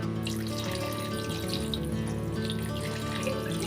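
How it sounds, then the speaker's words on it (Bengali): Water running steadily into a pan on a lit gas stove while cooking hilsa fish, a continuous close pouring and splashing with no talk. "এবার আমি সামান্য একটু জল দিয়ে দিচ্ছি"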